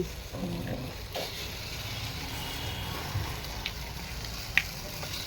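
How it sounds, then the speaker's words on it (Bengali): Egg dropped into a pan already frying onions gives a soft, low sizzle and faint crackle, with a few small clinks and taps against the pan, quiet and close, no voices. "হ্যাঁ, এবার ডিমটা যাচ্ছে, এবার যাবে ডিম"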